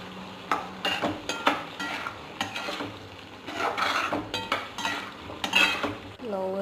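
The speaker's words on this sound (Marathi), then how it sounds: "आता फ्लॉवर चांगलं हलवून घेऊया मसाल्यामध्ये" Cauliflower florets stirred into a hotel-style masala gravy in a pan: repeated close, rhythmic scraping and clinking of a spoon against the pan over a soft sizzle, with no talking.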